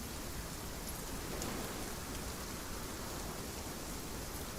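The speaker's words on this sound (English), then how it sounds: "It's raining." Steady rain falling over a cemetery in the video game Tears of Themis, a constant even hiss of moderate loudness with no other sounds.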